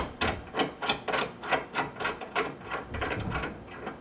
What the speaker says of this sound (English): I'm loosening up the string jig on the end here